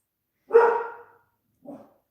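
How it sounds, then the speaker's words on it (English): A single dog bark, fairly close, followed a second later by a softer short yip. "So sorry if you hear her barking."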